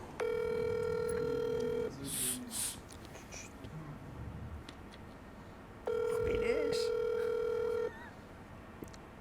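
Two bursts of a steady electronic calling tone from a WhatsApp call ring out, each lasting about two seconds with a gap between, and faint background noise and murmur fill the pause.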